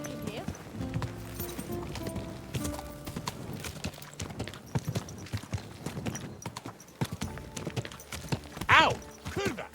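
Horse hooves clip-clop through a busy medieval scene in Kingdom Come Deliverance 2, steady and fairly close under layered crowd chatter and voices, with a brief whinny near the end.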